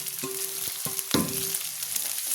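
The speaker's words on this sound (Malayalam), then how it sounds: "ചെറിയ ഉള്ളി 250 ഗ്രാം ഇടാം" Small onions, about 250 grams, dropped into hot oil for a mutton curry, giving a steady close sizzle with a few sharp bursts and crackles as they hit the pan, with no talking.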